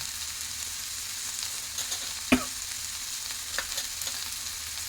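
Spices such as turmeric, homemade onion-garlic masala, kitchen king masala and coriander sautéing in hot oil for a farsan bhaji, a steady soft sizzle with a few sharper pops and one loud spatter.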